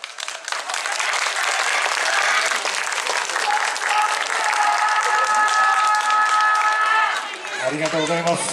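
Loud, dense applause and cheering from the crowd at a YOSAKOI dance festival on a street venue, sustained for several seconds before tapering off as music begins.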